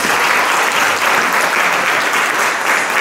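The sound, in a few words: audience applause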